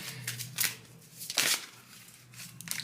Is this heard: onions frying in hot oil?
no